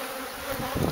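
Dense, steady buzzing of honeybees swarming around a hive built inside a camper, close and continuous, with a low rising rumble toward the end.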